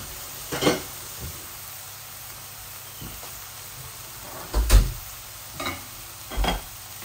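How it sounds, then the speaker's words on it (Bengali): Egg frying in plenty of oil in a pan gives a soft, steady sizzle, broken by a few sharp clatters and knocks of a utensil against the pan. "এই দেখুন আমার ডিম ভাজিটা কত সুন্দর হচ্ছে"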